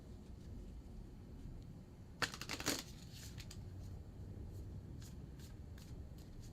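A deck of French suited reading cards is riffled and bridged, producing a short crisp burst of flicking card edges over quiet room hiss, followed by a few soft taps.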